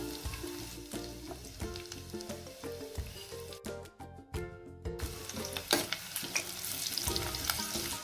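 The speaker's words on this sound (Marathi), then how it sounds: "आता आपली हिरवी मिरची आणि एक लसूण पण छान तळला गेलेला आहे" Green chilies and garlic sizzle steadily in oil in a pan while a utensil scrapes and stirs with repeated clinks; frying is close and fairly loud, with no talking.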